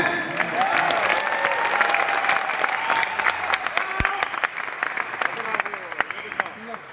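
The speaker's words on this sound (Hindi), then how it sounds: "क्या तालियां काफी है?" A crowd at a company's eighth-anniversary event in India gives sustained applause, close and lively. Voices and cheers rise over the clapping before it gradually loosens into scattered claps.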